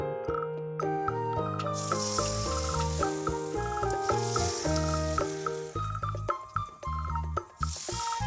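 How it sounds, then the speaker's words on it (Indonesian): Peanut rempeyek batter frying in hot oil: a constant crackling sizzle under prominent melodic background music, with bursts of louder spattering and no talk. "Kemudian goreng kembali dengan cara yang sama seperti di awal tadi sampai seluruh adonannya habis."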